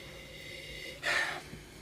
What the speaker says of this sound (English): A little bit of a sniffy sniff.